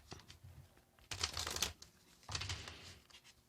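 Playing cards being shuffled in two quick riffling bursts separated by short pauses, close and fairly quiet in an otherwise still room.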